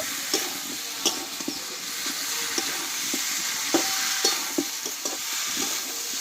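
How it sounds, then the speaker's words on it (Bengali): Young jackfruit is stir-fried with spices in a pan, giving a dense, continuous sizzle with evenly spaced scraping strokes of the stirring utensil, close and fairly loud with no talking. "এঁচড় কাঁঠালটা দিয়ে দেবো এই মশলার সঙ্গে ভালোভাবে আমি কিন্তু আবারও একটু কষিয়ে নেব"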